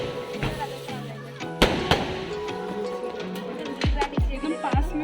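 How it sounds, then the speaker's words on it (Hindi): Firecrackers burst after Chhath puja: one sharp bang early on, then three booming cracks in quick succession near the end, over steady crowd chatter. "और पूजा खत्म होने के बाद पटाखे भी फूटने लगे हैं।"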